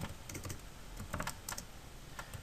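Quick, irregular keystrokes on a computer keyboard while code is typed, soft and close with short bursts and pauses.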